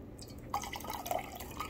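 Concentrated Bona hardwood floor cleaner is poured into a plastic bottle, making a quiet trickling and dripping liquid sound up close with small splashes as it fills.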